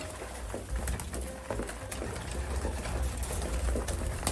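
Racing pigeons, mostly flight hens with a few males, cooing in a crowded loft, soft low coos repeating over a steady rushing background noise, no talk.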